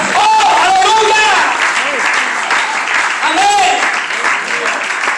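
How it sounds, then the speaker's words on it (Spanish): A church congregation applauding during a worship service, steady dense clapping throughout with a voice calling out over it. "Dale fuerte el aplauso a ese Cristo de la gloria que merece toda honra."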